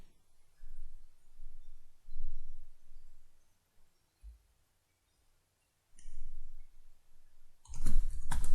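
A computer mouse clicks during SQL Server 2008 cluster setup, a sharp click near the six-second mark and a louder burst of clicks at the very end, with quiet room hum between.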